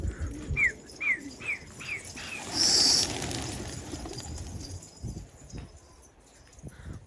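Istanbul tumbler pigeons, an old-line purple breed, give a run of five soft repeated coos near the start, followed by fainter calls and rustling over a steady background murmur.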